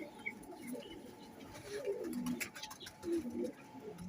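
Sialkoti and Teddy pigeons coo softly in repeated low bubbling phrases at close range, with a few faint chirps and light background noise.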